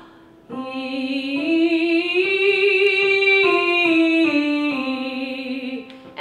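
A single voice sings a sustained vocal exercise on an open vowel, stepping up three notes and then sliding down five notes, with a smooth legato tone, close and clear, with no accompaniment.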